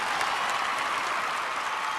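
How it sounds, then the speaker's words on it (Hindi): Loud, dense audience applause fills the whole stretch, steady and continuous without a break, at a live event with a large crowd. "सर एक बार जोरदार तालियां प्लीज"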